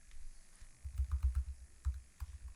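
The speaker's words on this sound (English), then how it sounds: "A lot of typing" Fast bursts of keystrokes on a computer keyboard, clattering in uneven clusters close to the microphone, with no voices over them.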